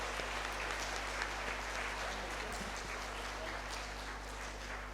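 Congregation clapping for the choir at a Catholic Mass in Merauke, a soft, distant patter of hands over a steady low hum, lasting throughout.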